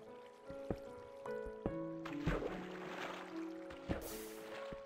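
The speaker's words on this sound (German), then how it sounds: "Woher kommt hier das Wasser?" Water trickles and flows inside a cave in Minecraft on PS4, a soft running wash layered with scattered plinks and knocks of the game at moderate, steady loudness.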